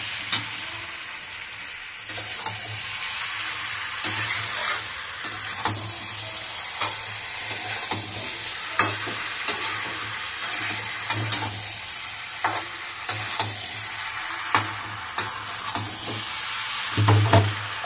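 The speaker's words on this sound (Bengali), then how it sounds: "যখন আমার ইঁচড় আর আলু দিয়ে মশলাটা কষানো হয়ে যাবে" Green jackfruit and potato pieces, not fried beforehand, stir-fry in a spice masala, a steady close sizzle broken by regular scraping strokes of the spoon through the pan over about eighteen seconds, with no talking.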